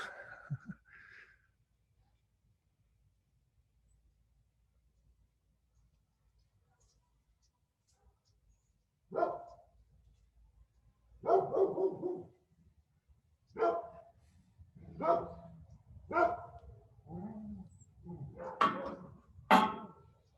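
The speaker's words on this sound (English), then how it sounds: "apologies for the dog barking in the background." A dog barks in the background of an indoor discussion, after a long quiet stretch a series of about eight separate barks come at irregular intervals, moderately loud and slightly distant.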